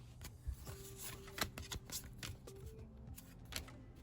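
Soft, close riffling and flicking of 1993 Fleer basketball trading cards being shuffled through a stack, a series of quiet papery snaps and slides at an irregular rhythm with no talking.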